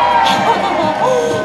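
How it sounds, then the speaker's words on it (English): Spectators at a magic show let out a loud, lively cheer, a crowd roar of whoops and mixed voices close at hand that holds steady for a moment. "Can you all give me a big cheer if you believe in magic?"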